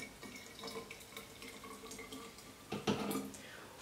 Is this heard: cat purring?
no